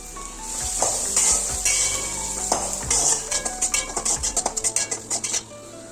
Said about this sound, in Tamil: ரெண்டு வெங்காயத்தை நறுக்கி வச்சுக்கோங்க அதை போட்டு டூ டூ த்ரீ மினிட்ஸ் வந்து வணக்கிக்கலாம்